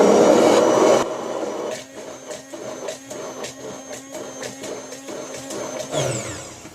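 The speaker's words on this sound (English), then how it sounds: "now I've got it all added in there, and I'm going to mix it up." Caveman coffee being stirred in a cup, a rhythmic scraping and clinking of a spoon repeated through the clip, fairly close and steady, with no talking.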